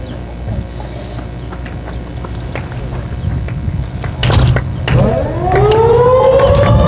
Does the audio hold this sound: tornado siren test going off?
yes